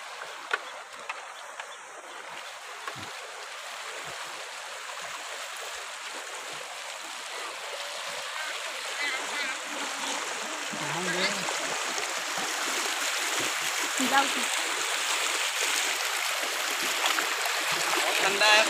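River water flowing and lapping with people bathing in a cold river, a steady broadband wash that grows slightly louder over time, with scattered splashes and faint voices in the background.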